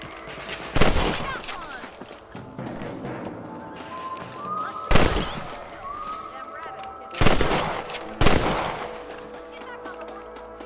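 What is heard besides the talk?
gunshots from a video game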